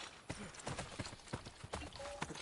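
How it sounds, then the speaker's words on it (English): Horse hooves clip-clopping in the video game Assassin's Creed Brotherhood, a steady run of hoofbeats at close range with a faint, brief tone near the end. "We're on a horse."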